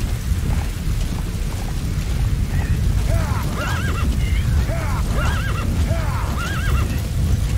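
A horse in Metal Gear Solid V: The Phantom Pain whinnies repeatedly over a steady rumble of galloping hooves, with rain and thunder in the background.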